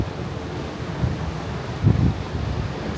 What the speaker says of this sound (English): The waves, it's quite windy today, and the ship is very wavy.